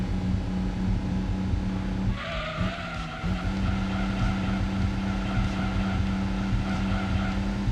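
A 170-horsepower race car in Gran Turismo 2 on PS1 during a British national championship race: a steady, droning engine note held throughout, with a brief tire skid and shift midway and no talk.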